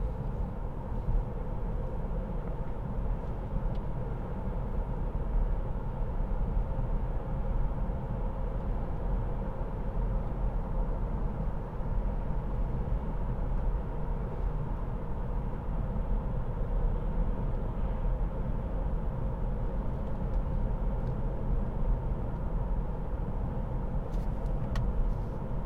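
Road noise inside a Chevrolet Bolt EUV Premier as it drives along: a steady, even rumble of tyres and cabin hum that carries on without a break, with no talking.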